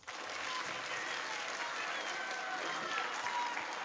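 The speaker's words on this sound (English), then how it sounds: "Round of applause." An audience at a middle school band concert applauds, a steady, even roar of many hands clapping that runs the full length without pause, heard from a moderate distance in a large room.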